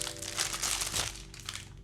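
Plastic packaging crinkles and crumples as a Kemei KM5027 trimmer is unwrapped, a steady close-up rustle with brief surges and no talking.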